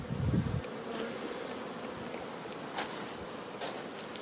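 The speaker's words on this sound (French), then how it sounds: "Il y a actuellement à peu près 7000 abeilles dans cette ruche." Honeybees humming steadily at an overwintering test hive holding about 7000 bees, a dense continuous buzz close by with a brief louder rumble at the very start.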